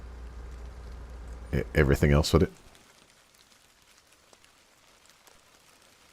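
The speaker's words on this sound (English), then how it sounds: "even the rain sounds better with JSRS" Rainfall in the video game ARMA 3 with the JSRS sound mod, a steady dense hiss for about two seconds before a voice speaks briefly over it, after which the rain fades to a faint patter.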